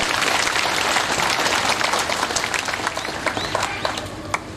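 A congregation claps at a Catholic priest's ordination ceremony, sustained crowd applause that stays full throughout and thins slightly toward the end, with a few louder individual claps standing out.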